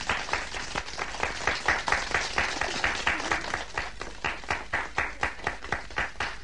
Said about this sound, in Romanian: Bravo, copii, să aplaudăm